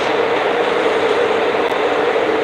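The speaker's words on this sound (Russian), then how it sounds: "Сейчас метро проедет." A metro train rumbles past close by, a loud, steady roar of wheels and rail noise that fills the whole short stretch without pause. No voices are heard over it.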